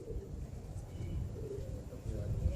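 Soft pigeon cooing from nearby birds, low murmuring coos repeating over a faint steady background with no talking.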